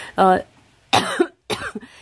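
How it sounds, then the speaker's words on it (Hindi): Three harsh, close coughs in quick succession, each a sharp burst separated by short pauses. "सॉरी खांसी लगी है"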